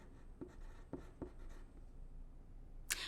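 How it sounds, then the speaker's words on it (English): Pencil writing on a paper activity sheet: a few distinct scratchy strokes with soft taps, close but quiet, ending in a brief brighter scrape. "On my prefix activity sheet, I will write pre plus able."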